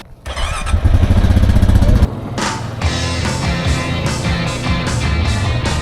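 A four-wheeler ATV engine in a remote Arctic town cranks and catches, then settles into a loud, close, rough idle with repeated throttle blips revving it up and down.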